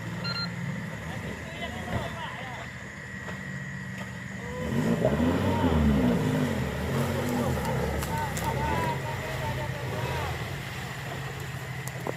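An offroad vehicle's engine revs as it pushes through chest-deep Lapindo mud, the roar swelling louder midway and holding steady under wind noise and occasional voices.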